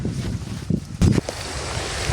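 Wind gusting across a tobacco plantation in the Jaffna area, a steady low rumble of air buffeting the microphone with a couple of stronger gusts, heard alone with no talking.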